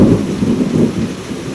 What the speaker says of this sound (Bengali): জানি না মেঘ ডাকার আওয়াজ শুনতে পাচ্ছ কি না, অসাধারণ বৃষ্টি হচ্ছে, অসম্ভব জোরে।